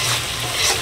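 Mustard, ginger, onion and garlic with turmeric, chili powder and salt sizzle and fry in hot oil, a brief close crackling hiss.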